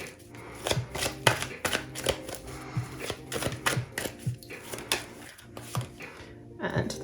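Tarot cards are shuffled and handled, giving a run of crisp, rapid riffling snaps and soft card slaps at an uneven rhythm, close and fairly quiet.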